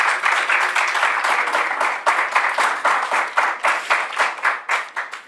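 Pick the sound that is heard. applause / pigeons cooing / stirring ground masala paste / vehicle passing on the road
applause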